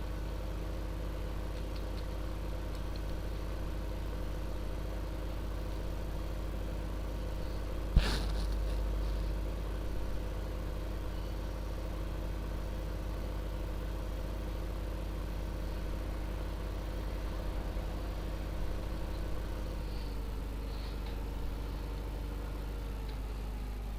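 A farm tractor engine runs steadily at idle through the whole stretch, a constant low mechanical drone in the background with a single brief knock partway through and no talking.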